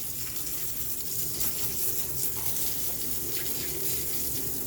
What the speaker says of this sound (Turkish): Şöyle bakın yüzeysel yıkadıktan sonra ipi de güzelce yıkayın.